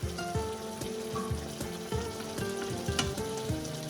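Paneer cubes sizzling as they hit a hot pan for smoky paneer, with a steady crackling fry broken by regular scraping strokes of a ladle, close and fairly loud with no talking.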